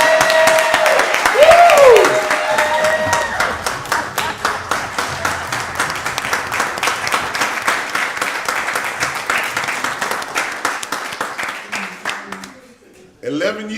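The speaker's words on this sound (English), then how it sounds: "we're going to start clapping and keep clapping until you get out here" An audience at a county board of commissioners meeting claps steadily and loudly for several seconds, with voices and cheers mixed in, before the applause fades out near the end.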